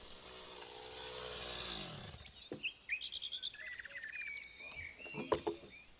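Chainsaw cutting a slab from a tree trunk, running loud and steady before winding down and cutting off, followed by quiet outdoors with birds chirping and a few sharp knocks.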